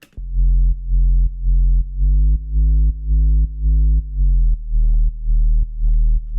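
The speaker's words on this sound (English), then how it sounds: "And that's just a sine wave." A sub bass synth built from a plain sine wave with pitch bending, run through a Head Crusher plugin, plays a deep pulsing pattern of repeated notes, some held and gliding, loud and alone.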